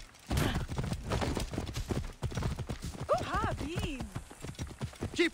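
Horse hooves clatter in a rapid galloping clip-clop during a race in the video game Assassin's Creed Origins, with a horse whinnying and voices shouting over the hoofbeats.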